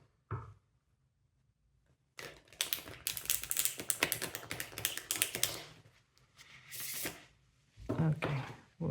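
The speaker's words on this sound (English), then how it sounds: "Just going to shuffle like this in order to get some reversed cards as well." A deck of tarot cards is shuffled by hand in a reading. Dense, rapid papery slaps and flicks run in a long burst, then a shorter one follows, with a few faint taps around them.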